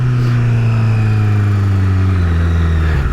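Honda CBR1000RR Fireblade SC59 superbike engine revving loud and close, a steady high-rpm exhaust drone that sags slightly near the end, with no clear separate pops standing out.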